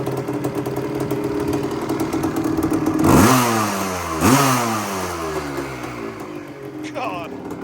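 The rebuilt engine of a Yamaha Tri-Z three-wheeler with ported intake idles steadily, then is blipped loudly twice in close succession before settling back to a rough idle, with a faint voice in the background.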